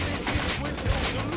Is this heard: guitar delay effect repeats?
no